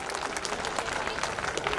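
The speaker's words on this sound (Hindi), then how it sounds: "जोरदार तालियां फॉर हराम इमरान" Loud, steady applause from a school audience at an annual day celebration, honouring a student who took first position; dense clapping fills the whole short stretch with faint voices mixed in.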